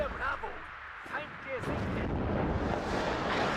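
Artillery rounds from a WARNO fire mission boom out in a few heavy bursts, then give way to a rolling, rumbling roar.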